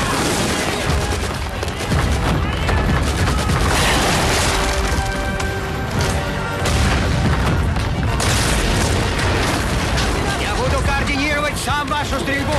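Naval cruiser guns fire in a war-film battle scene aboard the cruiser Slava, with repeated heavy booms and crackling volleys over a dense, loud background. Shouted voices mix into the din.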